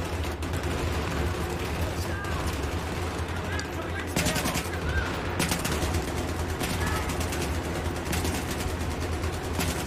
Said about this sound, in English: I think we've got enough bullets flying down that right hand side